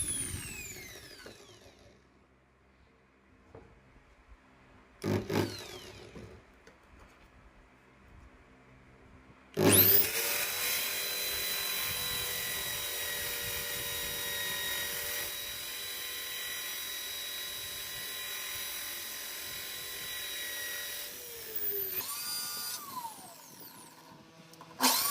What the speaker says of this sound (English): Using sandpaper wheel connected on power drill, remove the excess portion of the PCB to get the circle.